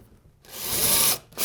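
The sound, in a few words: power drill driving a screw into drywall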